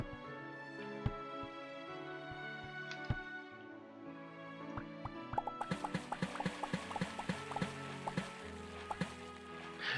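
Game water in Starbound plinks and drips, sparse at first, then turns into quick bubbly droplet patter over soft background music.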